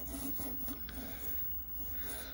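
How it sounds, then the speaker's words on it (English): Faint, steady rubbing and rasping of sandpaper on a CNC-engraved wooden baseball bat, a low continuous scratch with no talk. "So, just need some sanding."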